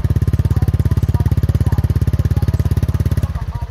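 A newly opened motorcycle engine runs close and loud with a fast, even pulsing beat, briefly easing in rhythm near the end.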